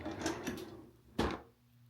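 A bathroom vanity drawer slides open with a couple of soft wooden knocks and then one sharper thud, close by and fairly quiet, with no talking.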